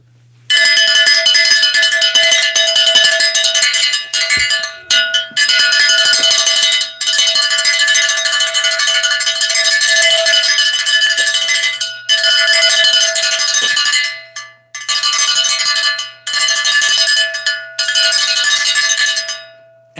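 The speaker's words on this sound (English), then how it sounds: "okay, all right, no more bells, no mas." Loud, bright metallic bells ring rapidly and continuously, a dense clanging that runs in long bursts broken by a few brief pauses, with no voices.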